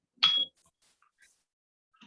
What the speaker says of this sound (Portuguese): vou bater o sino.